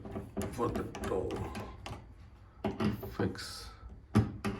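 Clicks, knocks and handling clatter from fitting hinges onto a DIY wardrobe door during assembly, a series of sharp close taps and rattles with someone talking over parts of it.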